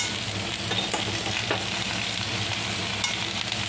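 Sweet shrimp paste (alamang) stirred into sizzling pinakbet in a hot pan, a steady close frying hiss with occasional scraping stir strokes throughout.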